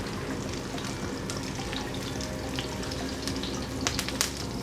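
Steak cooking with a coffee rub, sizzling and crackling steadily in a hot pan, a close, continuous frying hiss with small pops near the end and no talking.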